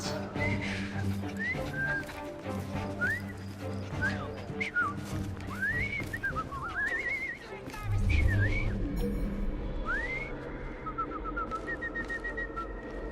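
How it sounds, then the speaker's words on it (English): Whistling in the video game Assassin's Creed Syndicate, a series of rising and falling whistled notes over street ambience with horse and carriage sounds, voices murmuring underneath. "I've just learned to whistle"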